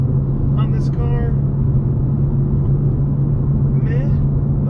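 A BMW M4/M3 F80/F82 engine and exhaust holds a steady, low droning rumble throughout, with a couple of brief voice fragments rising above it.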